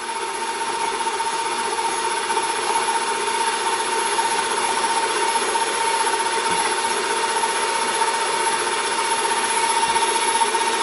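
An electric mixer whirs steadily through banana bread batter, a constant buzzing drone held close for the whole stretch with no talk over it.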